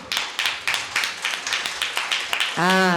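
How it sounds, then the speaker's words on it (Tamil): Women in a crowd at a stage event clap in a roughly regular rhythm, about ten distinct bursts of applause at moderate level. A voice or tone cuts in at the very end. "பெண்கள் மட்டும் ஒரு முறை கைத்தட்ட கொடுங்க பார்க்கலாம்."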